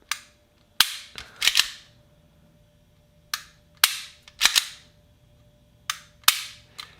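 Sharp dry clicks from a Taurus TX22 .22 pistol as the trigger is pulled and reset, arriving in quick pairs and triplets, close and crisp against a quiet background.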